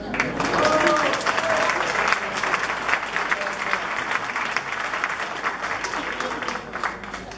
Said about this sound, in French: il aime bien se faire applaudir.